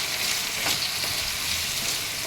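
Cashews and black raisins sizzle steadily in hot oil in a pan for a vegetable white pulao, a continuous close hiss with a faint stir partway through, no talking.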